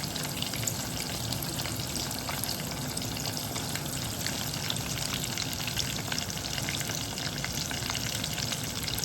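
Chinese lumpia sizzle in hot oil, a continuous crackling and popping fry with a steady hiss and occasional stirring sounds.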